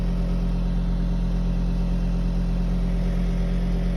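A Volkswagen car engine with a P2279 fault code is held steadily at 1,000 rpm, giving a constant, even low hum and drone heard close up with no talk.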